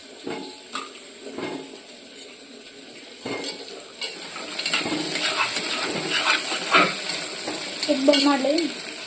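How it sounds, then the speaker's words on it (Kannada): Pulao spices and peanuts are stirred and fried in a pan, starting with sparse scrapes and clinks of a utensil, then building into a louder continuous sizzle with steady stirring, close and with no talking. "ಸ್ವಲ್ಪ ಚೆನ್ನಾಗಿ ಮೆತ್ತಗಾಗೋವರೆಗೂ ತಿರ್ಕೋಬೇಕು."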